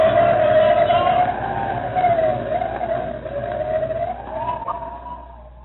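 Howling wind effect for a radio drama storm on an icy mountain pass: a loud, rising and falling whistling moan that runs steadily under the whole passage and slowly fades toward the end.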